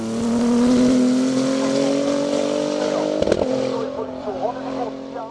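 A Renault RS 01 race car climbs a hill-climb course, its engine a loud, steady near drone holding one pitch before a brief burst of higher racket and a looser, uneven tail.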